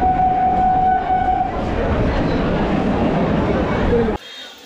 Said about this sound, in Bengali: মধ্যমগ্রাম স্টেশন থেকে ট্রেন ছেড়ে বেরিয়ে যাচ্ছে